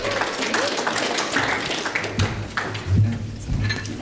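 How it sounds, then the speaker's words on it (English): A conference audience at an emergency care session in Queenstown claps for speakers, a fairly loud mix of hand claps with some taps and low rumbling movement, a few voices faintly murmuring underneath. "let's hear a nice big round of applause"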